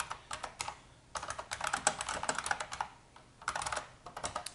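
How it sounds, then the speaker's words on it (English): Someone types on a computer keyboard in quick clustered bursts of clicking keystrokes, separated by brief pauses, close and fairly quiet with no talking. "I'm just going to type what you have for the other ones"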